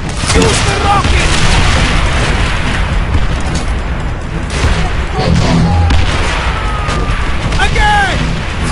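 A rocket launches in Call of Duty: World at War, followed by booming blasts amid scattered gunfire, loud and close, with shouting voices over the battle.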